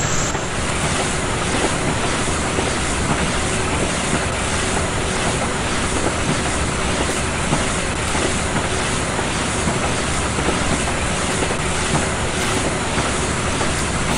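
The tractor engine in Farming Simulator 17 drones as a steady, dense roar that fills the whole stretch without a break, with no talking over it.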